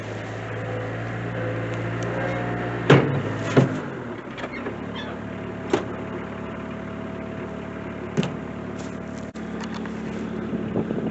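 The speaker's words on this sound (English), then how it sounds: "I got the skid steer fired up, it's warming up" A skid steer's engine idles steadily while warming up, a continuous low mechanical rumble close by, with a few clanks and knocks over it and the drone easing off partway through.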